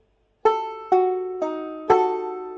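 Four crisp banjo plucks in G in a steady rhythm, the first and second strings struck together, each note ringing and decaying before the next, the last one slightly fuller.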